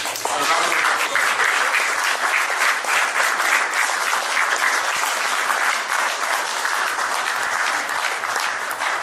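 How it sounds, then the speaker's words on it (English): Sustained applause from a large audience fills an awards gala night hall, dense and steady clapping rolling on without pause from start to finish. "A round of applause."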